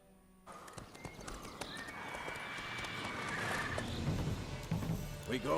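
Hooves of the horse Roach clatter in The Witcher video game over a swelling backdrop of game music and ambience, with a whinny and clip-clop rhythm building toward the end.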